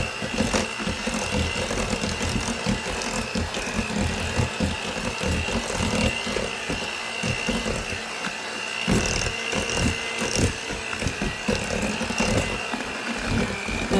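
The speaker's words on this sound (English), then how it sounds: "My mixer's on low." Electric hand mixer running on low speed through beaten eggs in a bowl, a continuous close motor whir with a steady whine and a rattly texture throughout, no voices.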